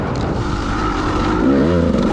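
A KTM dirt bike engine holds full throttle through whoops on a trail at Clough State Park, a loud continuous close-up roar with wavering pitch as the revs climb.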